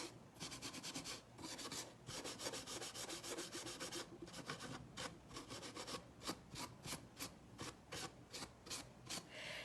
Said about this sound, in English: So I was burnishing like this in case you missed it the first time.